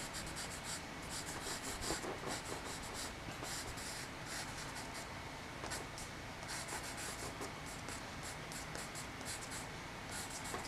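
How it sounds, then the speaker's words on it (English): A charcoal pencil shades across drawing paper, a continuous soft close-up scratching and rubbing with rhythmic back-and-forth strokes, no talking. "when I go into shading mode, I just turn the pencil that way every way."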